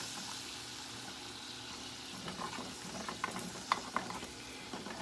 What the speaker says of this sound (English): now I'm going to add some flour because I'm making a roux